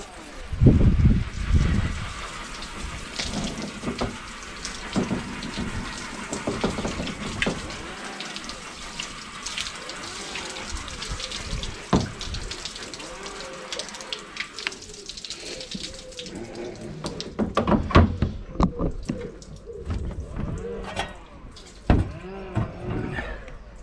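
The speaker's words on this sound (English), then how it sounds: "It's just low pressure water." Low-pressure water rinsing a ceramic-coated car, a continuous splashing and hissing spray that surges and fades in bursts, with occasional brief talk.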